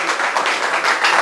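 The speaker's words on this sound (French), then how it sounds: "Est-ce qu'on peut applaudir très très fort" Audience applause at a Cameroonian pickup-line contest event, a loud, brief burst of continuous clapping from a crowd, close and dense throughout.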